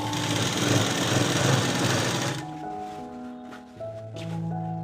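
A sewing machine stitches a churidar pant, whirring steadily up close for about two seconds before stopping, with quieter handling sounds of the cloth afterward.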